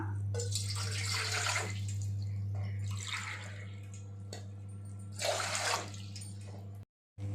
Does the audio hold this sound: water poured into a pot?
yes